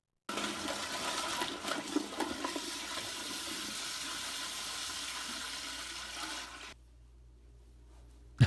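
A toilet flushes loudly and close by with a rushing gurgle lasting several seconds, then drops to a quieter refill trickle.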